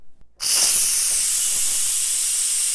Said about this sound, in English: The steam will take probably a minute or 2 to fully release.